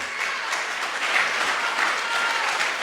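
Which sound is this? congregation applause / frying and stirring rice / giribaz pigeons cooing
congregation applause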